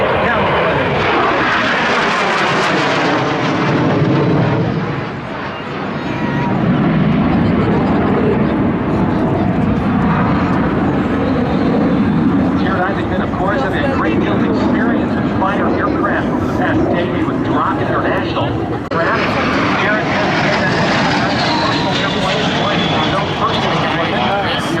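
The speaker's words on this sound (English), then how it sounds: "MiG-29 leading the two Alpha Jets" At the Oshkosh, Wisconsin airshow, a MiG-29 jet fighter leads two Alpha Jets past the crowd in a loud, sustained roar that swells and fades, briefly dips, then surges again, with a voice talking over it.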